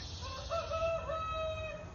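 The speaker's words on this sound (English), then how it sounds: "There's the chicken." A chicken crows in one drawn-out, wavering call of moderate loudness, with no talk over it.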